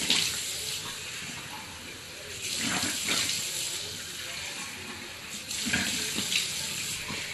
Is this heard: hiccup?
no